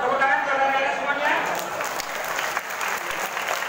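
Broad, dense applause rises from a gathering at a religious study session welcoming Ramadan, clapping for the children, steady and fairly loud for a few seconds with faint voices mixed in.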